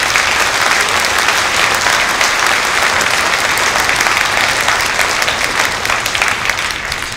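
Sustained applause from an audience at a mayor's New Year ceremony, loud, dense and steady for the whole stretch, tapering slightly near the end.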